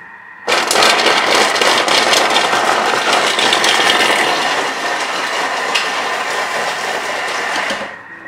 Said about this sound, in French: Le parmesan, il est tellement bon quand c'est vous qui le mixez.